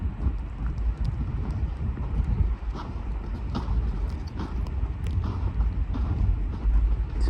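Steady wind buffets the microphone outdoors in a windy spot among trees, producing a continuous low rumble with gusty swells and no speech.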